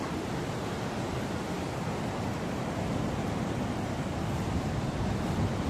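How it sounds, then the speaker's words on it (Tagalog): Ocean waves crash at Big Wave Bay in Hong Kong as a steady, dense roar of surf, loud and unbroken throughout, with wind noise blended in. "Nangahampas yung waves"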